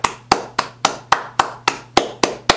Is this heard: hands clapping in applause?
yes